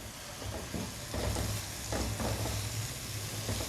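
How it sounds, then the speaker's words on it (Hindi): Ginger and garlic, then onion, sizzling and frying steadily in a hot pan, a continuous close crackle with slight swells as the pieces are moved, no voices over it. "अदरक लहसुन को थोड़ा सा भून के हम इसमें डाल देंगे प्याज"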